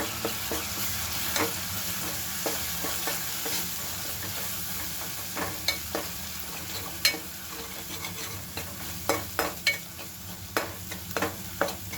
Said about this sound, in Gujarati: હવે આપણે થોડી હળદર એડ કરીશું તો હવે બધું આપણે મિક્સ કરી લઈએ